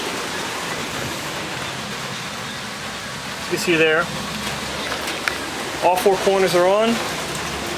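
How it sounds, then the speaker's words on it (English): Steady rain falls outdoors during a Lexus SC300 brake job, a constant soft hiss filling the background while someone talks over it close by. "And I don't think it's gonna stop fucking raining anytime soon."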